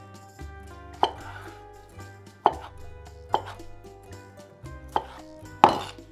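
A knife slices through a soft, squishy tomato on a cutting board with about five sharp taps spaced roughly a second apart. Each cut ends in a crisp knock against the board, close and fairly quiet, with no talk.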